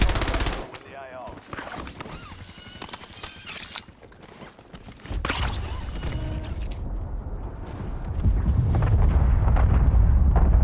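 Assault rifle fire in a video game crackles in rapid, dense bursts, joined by heavier booms and busy battle noise that grows louder and more rumbling toward the end.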